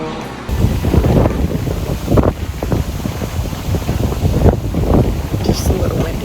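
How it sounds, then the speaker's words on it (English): Heavy wind buffets the microphone in loud, rumbling gusts throughout at an RV park in Byron, New York, with a voice partly audible beneath the roar. "Just a little windy."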